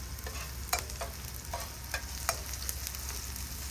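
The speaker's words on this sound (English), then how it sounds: "So I put like about 3 tablespoons of oil, and I want the onion to caramelize a little. Then I add my garlic to it" Onion and garlic fry in about three tablespoons of oil in a pan, a steady close sizzle broken by light scraping clicks of stirring.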